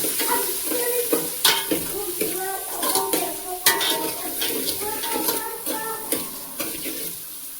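A pot of rice mixed with toor, chana and moong dal is stirred in a village kitchen, with repeated scraping and clanking strokes at an uneven rhythm, close and fairly loud, and no voice over it.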